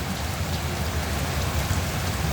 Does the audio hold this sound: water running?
no